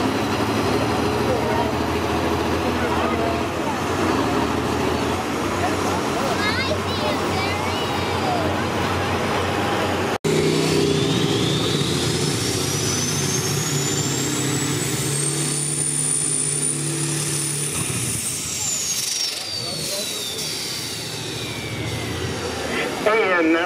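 An Allis-Chalmers D21 tractor at a county fair tractor pull, its engine roaring loud and sustained with a rising whine, while an announcer talks over it.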